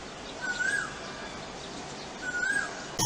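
Wild birds at a winter breeding site give two short, high twittering calls, one early and one near the end, faint and thin over a quiet outdoor background.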